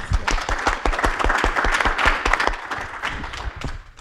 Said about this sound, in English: we should give him a small round of applause